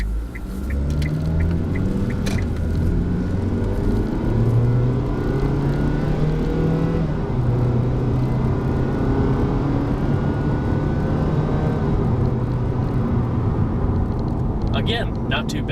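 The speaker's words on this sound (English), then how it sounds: "Get a little acceleration clip in automatic mode." A 2012 Kia Rio SX hatchback in automatic mode accelerating from inside the cabin, engine note climbing steadily through the gears with a low droning rumble and road noise, a slight gear-change dip early on.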